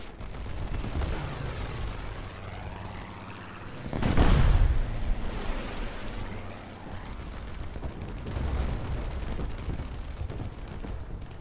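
The 20mm cannons of a Fokker D.XXI fighter fire in War Thunder, a rough rumbling barrage that swells into a loud burst around the middle, then rolls on in lower sustained bursts over steady engine drone.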